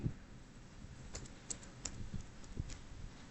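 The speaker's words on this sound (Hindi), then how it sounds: "तो 42 हम यहाँ पर टाइप कर देंगे" Number 42 typed on a computer keyboard: a few light, spaced key clicks, close but quiet, over a faint hiss with no talk.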